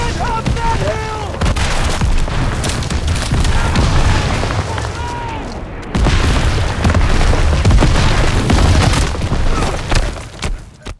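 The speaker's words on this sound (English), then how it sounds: "So tree bursts are, the Germans artillery would come in and it would explode" Artillery tree bursts in a woodland battle for Call of Duty, repeated heavy booms and crackling blasts over rumbling gunfire, loud and dense, with shouting voices at times.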